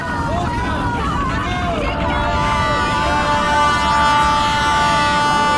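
A train in a noisy, echoing setting, with layered horn-like tones and rumbling carriages running steadily through the whole stretch under a dense murmur of crowd babble.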